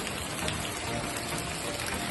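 Steady, dense rain pours down close by after a heavier downpour has eased a little, a continuous hiss with no pauses and no talk.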